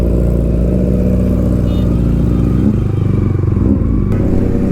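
A Kawasaki Ninja ZX-10R superbike engine drones loud and steady on the road, with a strong low rumble that swells briefly with throttle before settling again.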